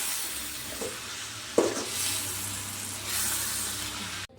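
Cauliflower sabzi with Maggi masala being stirred in a hot pan, a steady sizzling hiss with a few soft scrapes and a sharper clack near the middle, fairly faint and continuous with no talk.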